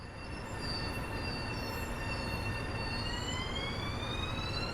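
A Long Island Rail Road M7 commuter electric train rolling past close by, a loud steady rumble of wheels on rails with high squealing tones rising and sliding above it.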